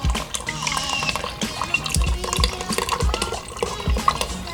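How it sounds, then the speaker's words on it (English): Canned tomato sauce, diced tomatoes, soy sauce and broth pour into an Instant Pot, close glugging and splashing liquid with several thuds of cans and pot handling in between. "I'm gonna add a can of tomato sauce, a can of diced tomatoes, 1/4 cup soy sauce, 3 cups of broth"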